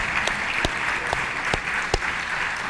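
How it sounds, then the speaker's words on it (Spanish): A church congregation applauding during a sermon, continuous steady clapping with a few sharper, louder claps standing out, unbroken throughout. "Le damos un aplauso al Señor."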